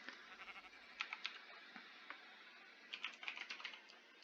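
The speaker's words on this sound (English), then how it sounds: "Once my computer decides to start typing again." Quiet clicking of computer keys, typed in uneven bursts with brief pauses, close by and with no talking.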